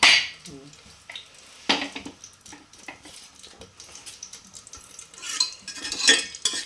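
Bay leaves go into hot ghee for tempering basanti pulao, and a spoon stirs and scrapes around the pot with soft sizzling and clinking, steady and close, with no talking.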